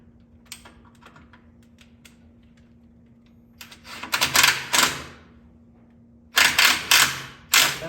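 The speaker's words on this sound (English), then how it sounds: "Go ahead and finish tightening your fitting." Bursts of metallic ratcheting clicks from a wrench tightening a brake line fitting on a 1988–98 2WD OBS truck, close and loud, in two rapid clusters after a few sparse clicks.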